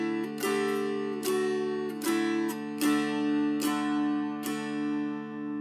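Dulcimer tuned DAA playing a short melodic phrase from the folk tune Go Tell Aunt Rhody, about eight plucked notes in a steady rhythm over a droning ring of sustained strings, close and clear with no talking.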